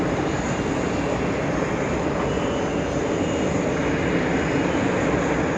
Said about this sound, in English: We've got Airbus 101 heading to Mexico City. That's an A320. The Airbus A320neo.